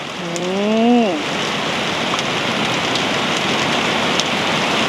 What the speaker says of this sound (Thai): ฝนแรงเหมือนโกดไข่มา พายุเข้านะจ๊ะ